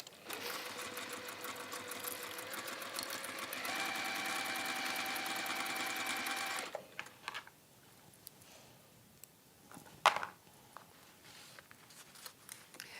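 A sewing machine chain piecing fabric runs in a fast, steady close-up whir for about six seconds, then stops, leaving faint handling clicks and a single sharp tap.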